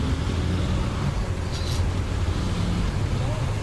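A KSRTC bus engine drones steadily in Euro Truck Simulator 2 while overtaking, with a constant loud roar of engine and road noise and a brief brighter hiss midway.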